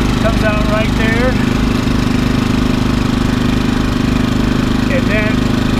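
A Champion portable generator runs at an RV campsite, a steady close mid-pitched engine drone that holds throughout while a person talks over it.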